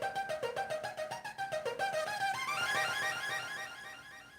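Synth arpeggio with delay echo, a plucked rising and falling note pattern in quick rhythmic pulses whose repeats pile up and smear into a trailing wash of echoes that fades at the end.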